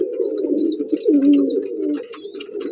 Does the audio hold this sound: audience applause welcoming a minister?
no